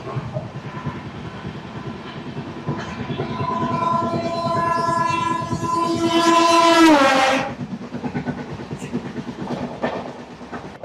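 A passenger train on the Howrah to Digha line leaving Kolaghat station, with steady wheel rumble and clatter under a long, rising horn blast that ends abruptly, followed by continued rolling clickety-clack.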